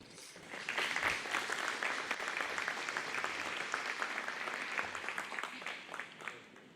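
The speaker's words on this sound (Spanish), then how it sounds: "pido por favor un caluroso aplauso" Audience applause at an academic conference, a dense, steady round of clapping from a room full of people that rises quickly, holds evenly for several seconds and then tapers, with no talking.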